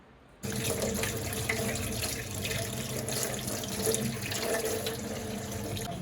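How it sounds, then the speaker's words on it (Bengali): Rice being washed under a running kitchen tap: water gushes steadily into a sink after a brief quiet start, with light splashing and churning throughout. "এখানে চাল ধুয়ে দিয়েছি"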